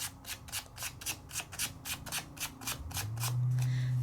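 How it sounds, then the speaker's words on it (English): A hand rubs glitter over a double-stick peel-off sticker in quick, regular strokes, about a dozen soft close scrubbing swishes in even rhythm, followed by a low steady hum at the end. "And I just rub that glitter right over it. And I just burnish it with my hands."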